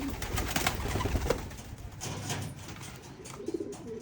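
Young pigeons cooing, soft repeated coos from several birds close by, with light rustling in the background.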